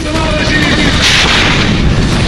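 A loud, heavy blast from a suicide bomber at a crowded gathering, with dense broadband roar filling the whole clip, rumbling without pause.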